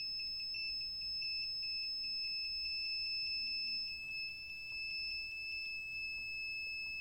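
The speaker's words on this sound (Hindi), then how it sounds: "बजर यहाँ पे बजते ही जा रहा है" An ESP32-based temperature alert buzzer sounds continuously, a steady high-pitched electronic tone that keeps going without a break against a quiet room hum.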